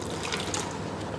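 Water poured onto freshly repotted houseplants in pots of new soil, a steady close-up splashing and trickling that continues without a break, alone with no talking.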